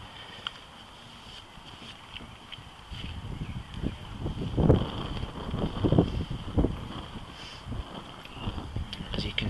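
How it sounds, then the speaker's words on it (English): Outdoor wind buffets the microphone at a bushcraft cooking spot, with low rumbling gusts that grow stronger and more uneven partway through. "it's pretty windy."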